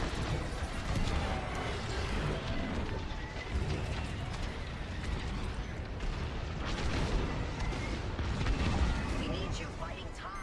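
Starfighter weapons fire in dense, continuous bursts at TIE fighters in the space combat game Star Wars Squadrons, a loud layered barrage of blasts and explosions that runs the whole stretch with no clear gaps.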